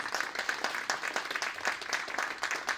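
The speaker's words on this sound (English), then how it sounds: "Please give a round of applause to our panelists." Audience at an AI Collective tech panel evening applauds the panelists, a dense, steady patter of many hands clapping at close range for a few seconds with no talk over it.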